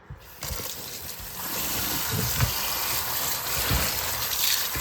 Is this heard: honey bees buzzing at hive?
no